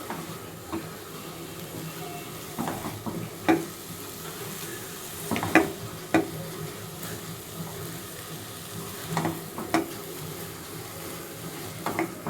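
Taro stolons frying with dried shrimp, turmeric, coriander, chili powder, plenty of garlic and green chilies: a steady close sizzle under repeated scraping stirs of a spatula, with occasional sharper clinks.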